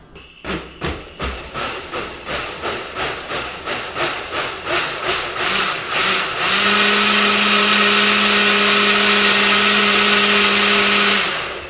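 A blender works through hot lobster bisque, first in about a dozen short rhythmic pulses, then settling into one loud, steady, continuous whir on the liquefy setting.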